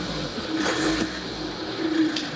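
A diesel Toyota Avensis idling with a steady low rumble and faint whine, heard close up inside the car after the glow plug has warmed.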